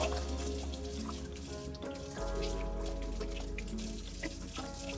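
Tap water runs steadily over freshly harvested chives being rinsed at a sink, a constant close splashing with a low tonal hum beneath it and no pauses.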